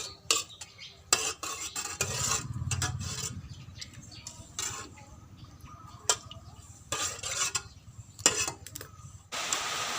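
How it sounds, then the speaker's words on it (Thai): A spoon scrapes and knocks against a pot in a steady run of strokes as banana in coconut milk with pandan leaves cooks over low heat. The stirring is close and clear, with short pauses between bursts. "เห็นนะคะก็คนไปเรื่อยๆ"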